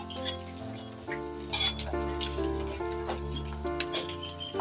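Batter snack frying in hot oil, a steady close sizzle and bubbling with a few scraping stirs and utensil clinks, no voices.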